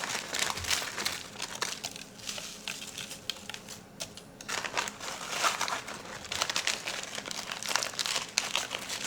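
Plastic bags of frozen split peas crinkle and crackle as they are handled and opened, in close, busy bursts with a short lull midway, no voices.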